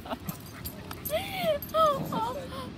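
A puppy and a big Rhodesian Ridgeback–Retriever mix play together, giving short rising whimpers and yips, fairly faint and close, with soft background noise and a person talking quietly.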